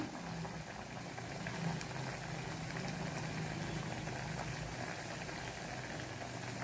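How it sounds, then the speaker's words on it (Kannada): Wheat flour appe batter frying in coconut oil, a steady bubbling sizzle that stays even and close throughout with no voices. "ನಾವು ತೆಂಗಿನ ಎಣ್ಣೆಯಲ್ಲಿ ಕಾಯಿಸ್ತಿದ್ದೇನೆ"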